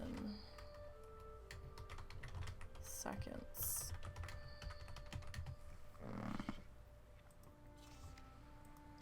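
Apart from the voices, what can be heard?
typing on a computer keyboard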